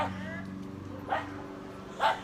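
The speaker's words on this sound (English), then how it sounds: "The dog across the way is barking at my dogs." A dog across the way barks at other dogs during an outdoor walk, giving two sharp barks about a second apart, moderately distant, over a steady low background hum.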